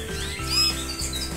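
Pet canaries chirp and trill in a home aviary, with bright overlapping calls and a repeating low pulsing rhythm, close and fairly loud with no talking.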